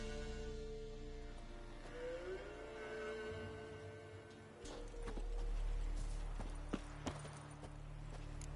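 Roach the horse gallops in the video game The Witcher 3, with hoofbeats set against steady tonal music and ambience, while sharper thuds and clatters come through more clearly in the second half.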